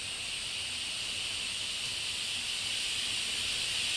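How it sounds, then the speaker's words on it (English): A La Pavoni Europiccola lever espresso machine lets out a steady, loud hiss of steam that holds unbroken for about four seconds, with no voices over it. "This one should hit steam here in a second."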